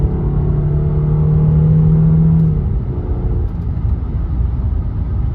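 Audi A6 with a 3-liter V6 pulling under part-to-three-quarter throttle: a steady, loud engine drone with a rising tone over the first half, then an even cruising rumble, with no talking.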